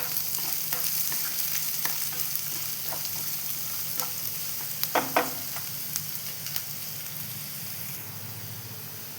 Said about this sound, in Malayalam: കടുക് പൊട്ടിക്കഴിഞ്ഞ് അതിലേക്ക് ഞാൻ ഉള്ളി ഇട്ട് വെക്കുന്നുണ്ട്.